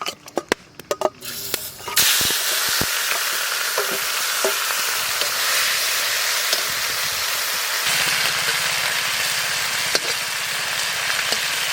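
Snakehead fish sizzle steadily in hot mustard oil in a pan beside a village pond, after a few opening clicks and knocks, with a dense, continuous, close frying hiss.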